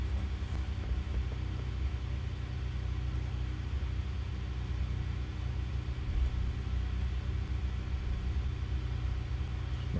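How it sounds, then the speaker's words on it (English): Diamond DA40 aircraft engine at reduced throttle on an ILS approach, heard from the cabin as a steady loud low drone with even rumble and no voices. "Autopilot coming off, throttle coming back slightly,"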